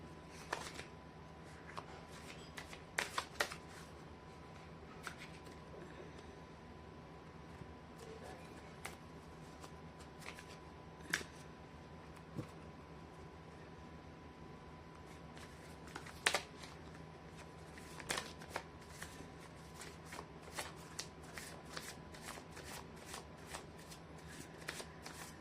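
Tarot cards are shuffled by hand in a quiet room, a faint ongoing riffle punctuated by scattered soft slaps and flicks over nearly half a minute.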